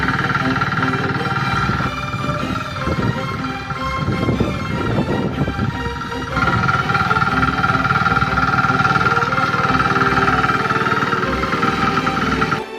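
A power weeder engine runs steadily and loudly while ploughing ridges in a field, a continuous buzzing drone with rough, shifting load through the middle stretch and no break in the sound.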